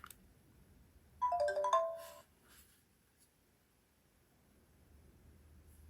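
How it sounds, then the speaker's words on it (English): A Zoom H1 Essential handheld recorder gives a short electronic power-off chime, a quick descending run of clear tones lasting about a second, heard alone against a quiet background. "you'll get to hear the nice little power off chime this has"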